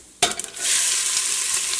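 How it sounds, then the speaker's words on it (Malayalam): Half a tablespoon of cumin seeds dropped into hot oil over low flame for a green gram curry, an abrupt splash of crackling that settles into a loud, steady, close sizzle. "ഇതിലേക്ക് 1/2 ടേബിൾ സ്പൂൺ ചെറിയ ജീരകമാണ് ചേർക്കുന്നത്. തീ നന്നായിട്ട് കുറച്ച് വയ്ക്കുക."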